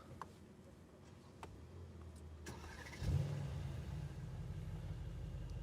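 A Mercedes-Benz car is started from inside the cabin, with a faint click before the engine catches at about three seconds. It then settles into a steady low idle.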